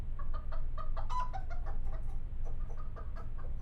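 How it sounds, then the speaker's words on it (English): Backyard chickens cluck in a quick, busy series of short calls, close and fairly quiet over a low background hum, with no one speaking. "What's that noise? Our chickens"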